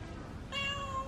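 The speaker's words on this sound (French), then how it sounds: "Il y a même des petits chats ici." Small kittens meowing outdoors at a shrine in Japan, a short high-pitched mew rising clearly out of steady background ambience.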